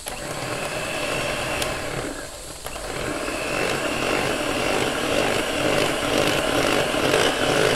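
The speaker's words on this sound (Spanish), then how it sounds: "Batimos suavemente hasta que nos quede sin grumos." A whisk beats cream frosting with powdered sugar for a red velvet cake, giving a continuous whirring beat that dips briefly partway through, then carries on evenly and close.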